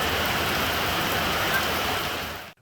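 Heavy monsoon rain pours down in Lahore, a dense, loud, steady hiss of drops striking surfaces that continues unbroken before cutting off abruptly.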